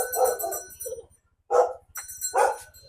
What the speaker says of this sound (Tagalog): Aso, may aso.